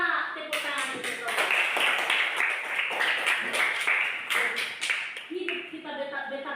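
Brief applause in a Christian religious education class, rapid scattered clapping filling most of the moment and fading near the end, with voices mixed in.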